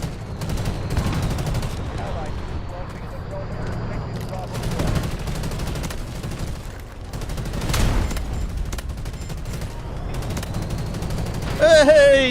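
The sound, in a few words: tank machine gun fire in the video game Delta Force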